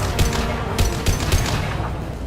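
Rapid video game gunfire from Mass Effect 2 during a street fight on Omega, several sharp shots in quick irregular bursts over a constant rumbling battle background.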